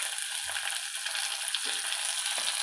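Medium-sized tomato pieces fry in hot oil with green chillies and curry leaves, giving a steady bright sizzle with a few soft stirring bumps, close and continuous, with no talking.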